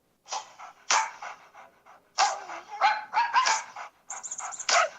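Dog-bark ringtone playing from a phone: a quick series of sharp, yappy barks in uneven bursts with brief gaps, fairly clear and alone.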